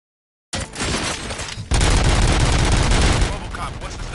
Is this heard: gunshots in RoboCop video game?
yes